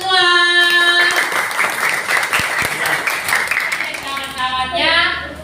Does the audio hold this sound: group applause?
yes